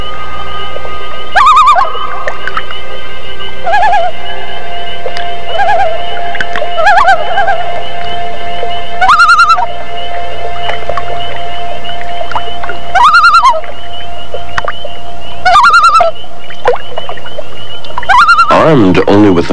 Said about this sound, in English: Dan captures one of nature's treasures, the cry of the loon